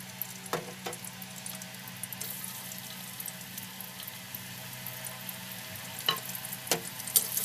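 Onion and garlic fry in hot oil in a pan with a steady, soft sizzle, plus a few faint clinks of stirring near the end.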